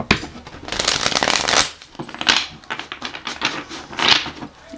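A deck of tarot cards being shuffled by hand, with several crisp riffling bursts separated by short pauses, close and fairly loud with no talking.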